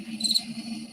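A soundboard effect of chirping crickets plays, with a steady high trill and a low drone beneath, fairly close and alone without speech.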